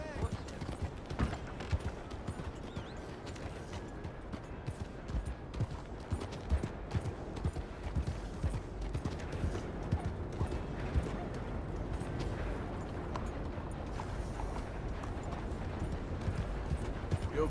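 Horse hooves clip-clop in a steady, brisk rhythm over a continuous Red Dead Redemption 2 game soundscape, with a few sharp cracks scattered through.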